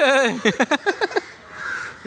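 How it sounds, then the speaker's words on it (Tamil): A crow caws in a quick run of about seven harsh, rhythmic calls, close and loud, then trails off into quiet background. "காக்கா பறக்கோ"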